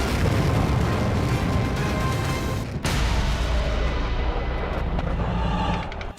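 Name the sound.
missile explosions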